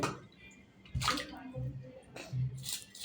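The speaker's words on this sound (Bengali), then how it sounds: "এবার আমি সুন্দর করে ধুয়ে মাছগুলো উপরে উঠাবো" Fresh fish are washed and lifted by hand in a basin of water, with sloshing and splashing in a few uneven bursts, close by and moderately loud.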